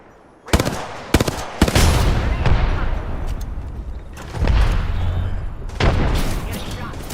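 Video game gunfire: bursts of automatic fire and sharp shots come loud and close, split by short gaps, with heavier booming stretches between them and a voice talking over part of the action.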